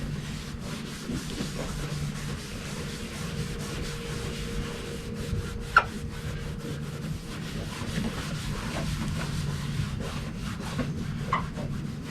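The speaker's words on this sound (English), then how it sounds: "apply lens clarifying compound, rub over entire lens using firm pressure" Firm, continuous rubbing of clarifying compound over a GMC Yukon headlight lens, using a Turtle Wax restoration kit, makes a steady, close scrubbing hiss with one faint knock midway.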